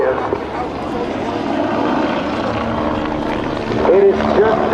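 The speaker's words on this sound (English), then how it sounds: "It is just beyond my comprehension how you can make a helicopter do that." A helicopter flown by aerobatic pilot Chuck Aaron at the 2010 Rhode Island Air National Guard open house and airshow drones steadily with broadband rotor and engine noise, swelling louder near the end while people talk over it.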